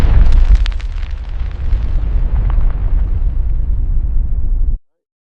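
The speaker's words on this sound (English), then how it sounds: "this is the mushroom cloud after the nuclear explosion" A nuclear explosion plays from video footage as a loud, continuous low rumbling roar with crackling bursts, sustained for several seconds before cutting off abruptly.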